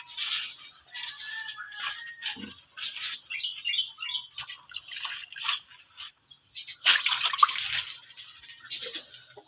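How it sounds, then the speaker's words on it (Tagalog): Water splashes and trickles in small bursts as it is poured for pigeons, which chirp and flutter nearby, with a louder splash toward the end. "Bigyan naman natin ng tubig guys."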